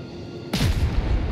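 Warship guns firing in World of Warships: after a quiet half second, a single sharp booming salvo hits, followed by a rumbling low decay.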